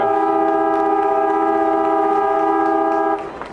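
Half-time siren at an AFL match between North Melbourne and Collingwood in 2001, a loud sustained steady horn blast lasting about three seconds before cutting off into crowd noise.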